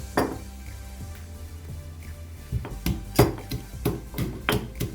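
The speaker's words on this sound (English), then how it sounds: "So for pounding, I'm using a mortar and pestle." Close, sharp pounding strikes from a pestle in a mortar crushing ginger, a few sparse knocks and then a steady run of heavy, rhythmic thuds.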